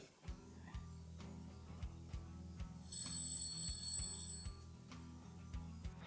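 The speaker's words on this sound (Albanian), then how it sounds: "Telefoni aty." An old-style telephone bell rings in repeated rhythmic bursts, steady and moderately loud with no talking.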